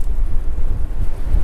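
Strong wind blows outdoors on a windy day in New Mexico beside a 13 ft Scamp travel trailer, a loud, steady low rumble of gusts buffeting close by with no other sounds.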